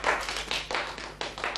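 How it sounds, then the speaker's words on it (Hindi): Children clapping in a radio play street-show scene, a short burst of quick, bright claps in uneven rhythm, close and fairly loud. "अब ताली बजा दो।"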